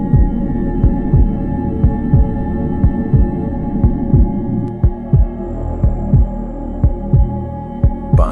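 A slowed-down underwater recording from the Atlantic Ocean, a deep rhythmic throbbing that resembles a heartbeat, with steady low pulses about twice per second over a continuous rumbling hum, loud and close with no voices.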